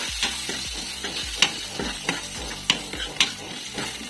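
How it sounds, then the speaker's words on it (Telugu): Spiced masala with garam masala and chilli fries in a pan, giving a steady close sizzle broken by several sharp clinks and scrapes of a spoon stirring against the metal. "అండ్ గరం మసాలా ఇవన్నీ వేసుకొని ఫ్రై చేసుకోవాలి"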